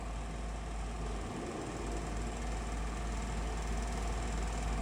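Steady, loud mechanical hum of a heavy-duty Rambaudi double-spindle milling machine from Italy as its table runs on rapid travel, a continuous drone with low rumble and no pauses.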